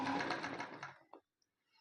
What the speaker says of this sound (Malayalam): നമുക്ക് മെല്ലെ സ്റ്റിച്ച് ചെയ്ത് തുടങ്ങാം